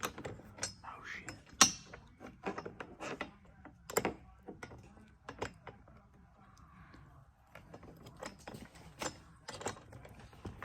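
Metal wrench clicking and ratcheting on roof rack bolts of a two-door Jeep JL during a DeeZee rack install: irregular sharp ticks and taps, with faint murmured voices in the background.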